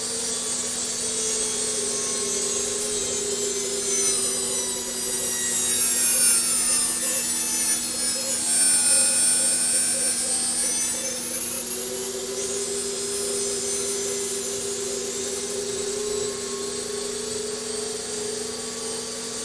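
A blade is ground on a Suburban MG-5-CV grinder wheel with a spin fixture, working from the inside back toward the sharp edge. The grinding runs as a steady, loud rasping hiss with a constant motor hum, shifting slightly in pitch as the blade passes.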